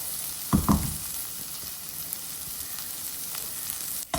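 Onions sauté in hot oil in a pan, giving a steady close sizzle throughout, broken by a few louder stirring clatters near the start and at the end, with no talk.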